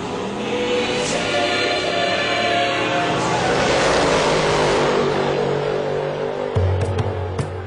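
A 2200 bhp road-legal car with a twin-turbo V8 accelerating hard, a loud close engine roar that builds steadily in pitch, then drops to a lower tone near the end.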